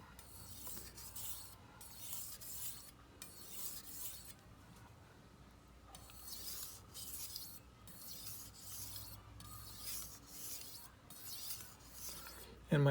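A chef's knife is drawn lightly across a 3000 grit whetstone in repeated rhythmic strokes, each a soft, close scraping rasp, with brief pauses between passes.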